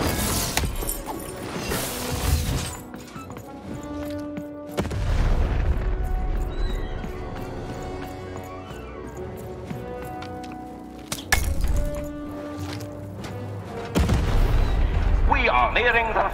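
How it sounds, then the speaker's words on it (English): Cannon blasts in the video game Lost in Random land as heavy booms with sharp onsets, then decaying rumble, amid game music and effects. "Shoot the button to fire the cannon."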